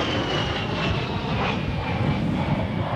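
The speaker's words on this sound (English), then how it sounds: "The A-10's two TF-34 turbofan engines add more than just power to its performance." An A-10 Thunderbolt II with two TF-34 turbofan engines flies during an air show demonstration at NAS Oceana, producing a steady, loud, broadband roar with a high whine running through it.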